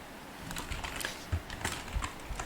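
Typing on a computer keyboard, heard as a quick, irregular run of soft key clicks, close and fairly quiet with no talk.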